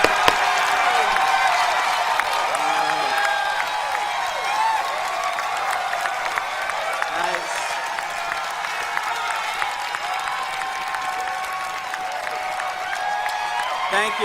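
Sustained audience applause and clapping fill a large hall at a Star Wars Celebration panel for The Last Jedi in Orlando, dense and steady, with some voices mixed in.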